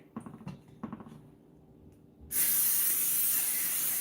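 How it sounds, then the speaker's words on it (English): Cooking spray hisses from an aerosol can onto a 9x13 casserole dish in one loud, steady burst lasting about two seconds, following a few light clinks of food being placed in the dish. "Spray your pan for easy cleanup."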